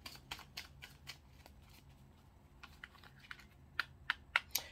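Tarot cards being shuffled by hand, a string of soft papery riffs and flicks, with sharper, louder snaps of cards near the end, close and quiet, no talking.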